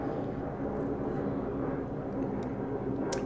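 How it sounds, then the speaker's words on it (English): A fixed-wing airplane drones steadily overhead at a distance, a continuous low broadband rumble persisting throughout as background noise in a snowy outdoor setting. "Apologize for that plane in the background."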